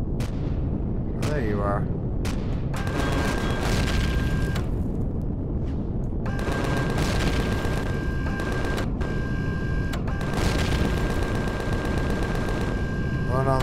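Sci-fi weapon fire and explosions in the space survival game Empyrion Galactic Survival, bursts of rapid shooting and booming blasts in clusters with pauses between, while someone talks briefly over the action.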